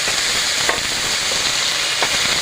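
Ground spice pastes of cumin, chilli, ginger, garlic and onion fry in a pan for a cabbage and egg dish, a dense steady hiss of sizzling oil with a couple of faint utensil scrapes, close and loud.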